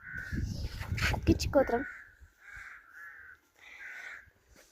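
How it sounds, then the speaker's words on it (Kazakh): Several crows caw in clear bursts, with a cluster of harsh calls early on and more spaced caws later, heard close while a person speaks at the start. "Мына жерде қарғалар жүр."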